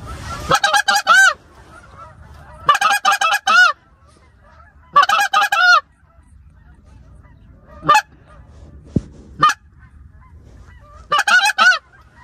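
Geese honk loudly in repeated bursts during a goose hunt, with several close, clustered calls, a few isolated single honks, and quiet gaps between them.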